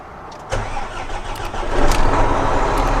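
A car engine cranks and catches about half a second in, then settles into a steady idle that grows slightly louder and fuller, close and alone with no talk, as the vehicle is started for a work shift.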